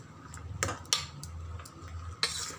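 Tomato curry stirred in a pot, a few sharp metallic clinks and scrapes of a spoon against the pot over a low simmering background, close and moderately quiet.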